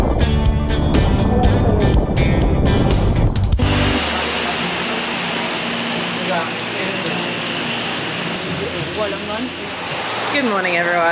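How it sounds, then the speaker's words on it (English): Heavy rain pours down steadily in Byron Bay, Australia, a dense continuous hiss that takes over after a few seconds of other sound, with faint chirping tones rising near the end. "As you may be able to hear, it is raining a lot."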